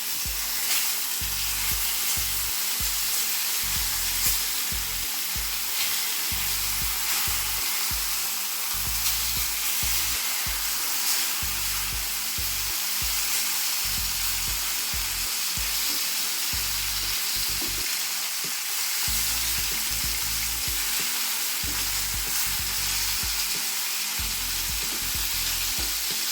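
Hake pieces fry in a pan with vegetables, a steady dense sizzle and crackle of hot oil with soft bubbling pops, continuous and close, with no voices.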